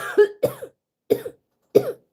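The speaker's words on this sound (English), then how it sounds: "I don't know why I'm coughing right now." Three separate coughs, each a short double burst, spaced apart with silence between them, close and clear.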